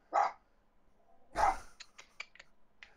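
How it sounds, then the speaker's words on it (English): An indoor dog upset by fireworks gives two sharp, close barks about a second apart. A few faint yips follow. "He's barking at the ceiling now."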